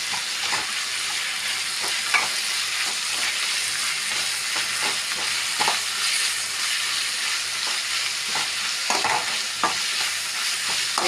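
Finely chopped green chillies sautéing in a pan, a loud continuous close sizzle with repeated scraping stirs of a spatula breaking through, no talking.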